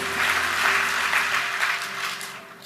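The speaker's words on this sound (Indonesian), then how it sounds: "Beri tepuk tangan sekali lagi yuk buat Tuhan Yesus Kristus." Congregation applause during a church service, a dense wash of clapping that swells and eases slightly, heard from within the hall with a faint steady hum beneath.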